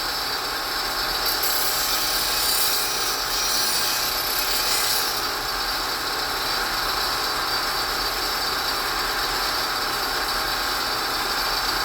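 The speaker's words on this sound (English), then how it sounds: "I'm going to go ahead and fire it up, and I'll grind across it a couple times to check where it's going to be" A bench grinder grinds a Stanley Bailey #7 plane iron with a loud, steady, harsh whir and a rasping grind that rises briefly in the first few seconds. No one speaks.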